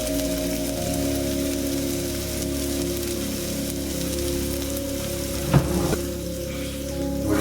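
Onions frying in olive oil: a steady crackling sizzle over an even hum, with one brief clink or scrape near the end.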